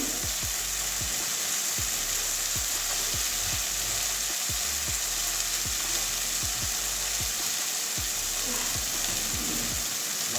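Washed soya chunks hit a pan of mushrooms already frying in oil, giving a loud, steady sizzle with a constant hiss and repeated stirring scrapes throughout.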